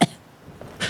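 A single short cough, close and fairly loud, followed by a fainter throaty sound just under a second later, with no talk around it.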